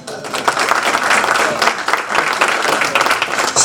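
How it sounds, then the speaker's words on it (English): A club audience applauds a comedian taking the stage at a Rotary Club installation event, with steady, dense clapping filling the room throughout at fairly strong volume. "give him a nice round of applause"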